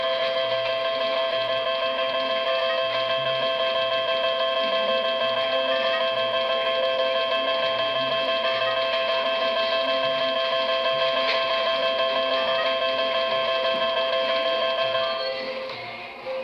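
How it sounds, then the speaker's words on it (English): Slot machine tallying credits with a steady, tonal electronic ringing that holds for about fifteen seconds at an even level before tapering off at the end, with no voices over it. "Your credits will ring up right here."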